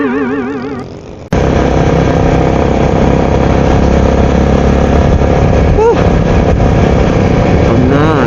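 A motorcycle speeds along a road under construction at night, its engine a loud, steady close-up roar after a brief opening burst, with a voice speaking over it.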